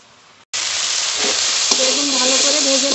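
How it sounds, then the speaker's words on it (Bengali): Eggplant hits hot oil in a pan and bursts into a loud, steady sizzle that runs unbroken to the end, close and bright, with no talking. "বেগুন ভালো করে ভেজে নিয়েছি"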